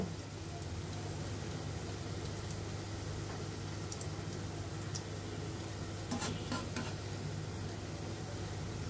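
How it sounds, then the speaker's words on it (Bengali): Chanachur snack mix fries in oil over a medium-low flame, giving a steady, soft sizzle with occasional faint clicks and ticks, with no voices. "চুলার আঁচটা মিডিয়াম টু লোতে ভেজে নিতে হবে।"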